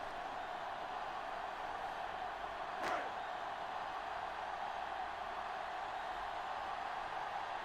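A crowd cheers in the Madden 08 American football video game as a steady, distant roar of noise, with one brief sharper burst.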